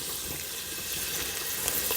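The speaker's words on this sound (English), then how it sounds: "And it's sizzling a little bit because it's still a little wet" Basil leaves sizzling in garlic oil in a pan, still a little wet, giving a steady, fine crackling hiss with scattered small pops, close and moderately loud, with no talking.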